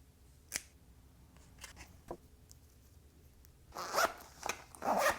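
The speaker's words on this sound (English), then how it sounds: "So I'm going to cut out this label I made." Scissors snip out a handmade label for a crochet product: a few faint, sparse clicks and cuts at first, then louder, closer rustling snips of paper toward the end.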